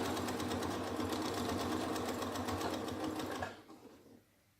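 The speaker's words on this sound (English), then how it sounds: "So it's just going to be rotating while I press my sewing machine foot." A sewing machine runs at a steady fast rhythm while twin needles hem stretch fabric. The motor whirs loudly and close up for about three and a half seconds, then slows and stops.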